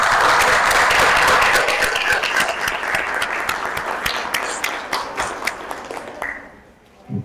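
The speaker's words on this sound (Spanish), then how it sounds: "Así que creo que es un aplauso para ellos." Audience applause at a talk on gender mainstreaming in technical-vocational education, steady dense clapping that thins out with scattered claps before fading to near silence at the end.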